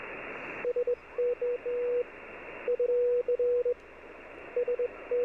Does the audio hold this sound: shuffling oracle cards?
no